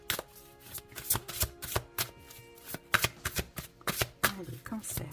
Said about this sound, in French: on va prendre 2 cartes de l'oracle interdit de Sherazade